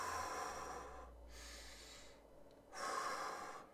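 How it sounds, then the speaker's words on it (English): Two long, airy breaths in a quiet room, a slow deep inhale and exhale around a short pause, then a second breath at the end, close and soft, with no talking. "Make sure you breathe in through the nose,"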